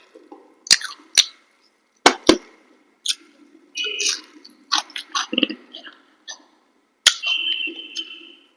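Tough meat being torn and chewed up close: sharp clicks and wet, squishy bites come in irregular bursts with quiet pauses between them.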